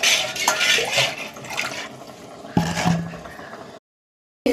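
Water added to a pot of tangy rasam during cooking, a steady close pouring and sloshing with light pot clatter that stops abruptly near the end.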